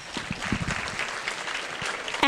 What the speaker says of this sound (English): let's give the men a round of applause